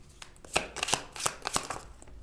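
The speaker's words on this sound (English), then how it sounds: "Really hard to shuffle." Tarot cards are shuffled by hand in a quick series of crisp, papery riffles and taps, fairly close and quiet, with no talking.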